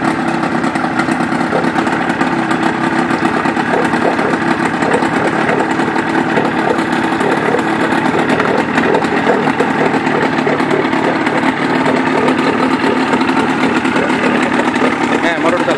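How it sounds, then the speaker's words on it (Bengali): A 1983 Johnson 35HP outboard motor on a 12-foot fibreglass boat runs at a steady, even drone close by, with voices talking over it. "এই মোটরটা চালাও, এই মোটর চালাও।"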